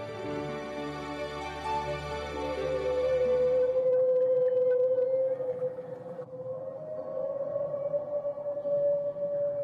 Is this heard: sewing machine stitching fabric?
no